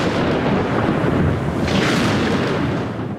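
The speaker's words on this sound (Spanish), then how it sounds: "Como simbolizando el significado de la reunión, estalla una fuerte tormenta." A heavy thunderstorm breaks out, with a dense, continuous roar of rain and rumbling thunder filling the whole stretch at steady loudness, with no voices.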